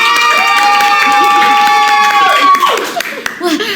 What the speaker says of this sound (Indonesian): kasih aplaus dulu dong semuanya